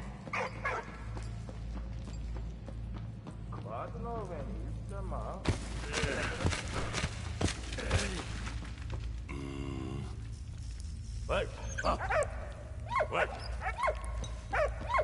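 Dog in the video game Valiant Hearts giving short yips and barks amid game music and effects, intermittent and fairly faint, with someone talking over much of it.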